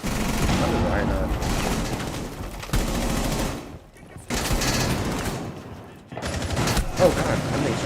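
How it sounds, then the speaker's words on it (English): Rapid bursts of gunfire from both sides in a video game shooter, dense and loud, with short pauses between volleys and a voice talking over the fighting. "Oh god, I'm being shot from both sides, bro."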